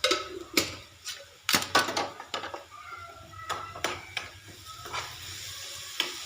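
Spoon scrapes and clinks against a pan while stirring lemon and sugar, irregular strokes over a soft sizzle hissing underneath, close and fairly quiet.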